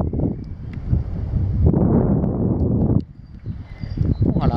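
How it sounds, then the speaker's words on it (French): Wind buffets the microphone on a sandy riverside beach along the Ardèche, coming in uneven gusts of loud, close rushing noise that drop off briefly before picking up again. "maintenant le vent a tourné"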